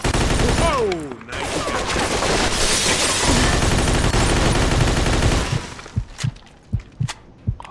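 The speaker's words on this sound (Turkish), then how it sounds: "Kavada bak, ölümüne sıkıyor bana la." Sustained gunfire in Mafia II is aimed at the player, with rapid machine-gun bursts and loud shots continuing for several seconds. It then thins into a few scattered, separate bangs near the end.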